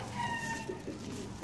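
A pigeon at a pigeon club coos softly in a short, low call, quiet and close, set against a faint background hum.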